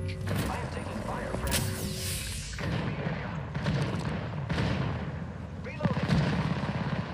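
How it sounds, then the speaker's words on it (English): Gunfire from the video game Apex Legends Arenas comes as dense, booming bursts and heavy thumps that roll on without pause, with a player's voice talking over the shooting. "I am taking fire"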